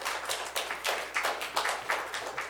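A small group in a San Diego County Board of Supervisors meeting room claps in quick, uneven bursts, nearby and moderately loud, for about two and a half seconds.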